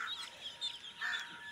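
Young ducklings at a duck breeding farm, a flock of black-legged, black-billed chicks, peep and call in a busy chorus of overlapping high chirps that swell in short bursts, with no talk over them.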